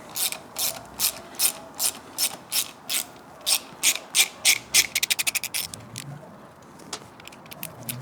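A ratchet turns a T30 Torx bit on the exhaust header of a 2024 Triumph motorcycle, making close, crisp clicking sweeps in a steady rhythm that speeds into a fast burst of clicks before trailing off.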